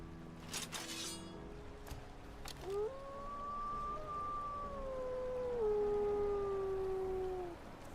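Dogs in a video game let out a long, wavering howl that rises and slides downward over several seconds, fairly loud and alone after a few short scuffs and clicks, with faint game ambience beneath.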